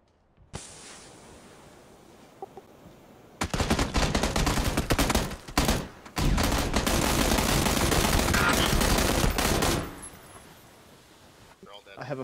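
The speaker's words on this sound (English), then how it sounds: "That was a lot of gunfire" Rapid bursts of video game gunfire in a battle royale match, dense and loud for several seconds, with short pauses between volleys, then fading to quiet.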